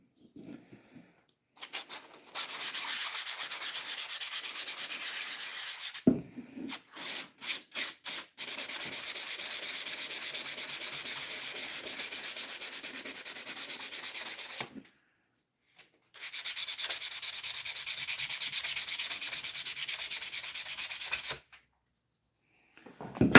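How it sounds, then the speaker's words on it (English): An orbital sander works a wooden piece with 220 grit sandpaper, giving a close, steady hissing whir in long runs broken by short pauses and a few quick on-off bursts. "Now I'm going to hit it with this 220, and then it'll be ready for some stain."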